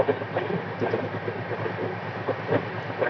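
A train rumbles steadily, with faint rhythmic clicking from the wheels over the rails, heard at moderate volume with no talking.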